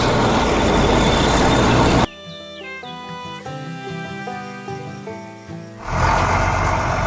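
A truck engine at a farm construction site where a backhoe digs a pond roars as loud broadband noise, cut off by a stretch of melodic music and then returning for the final second.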